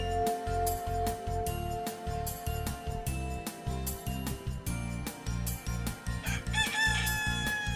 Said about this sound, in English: Sounds like a rooster.